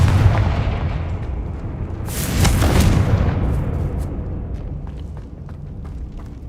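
A Confringo blasting curse in the Hogwarts Legacy video game erupts as a loud, booming burst of fire about two seconds in, then rumbles and fades under lingering low ambience and faint crackles.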